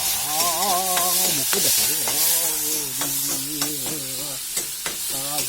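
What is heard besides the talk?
ginger-garlic paste frying in oil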